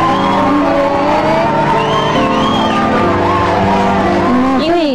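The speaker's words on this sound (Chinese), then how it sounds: "我们全场的人先给所有现在还在做的掌声鼓励一下。" A studio audience at a Taiwanese variety show cheers and whoops in a loud, continuous crowd roar, with shouts rising over the noise near the end.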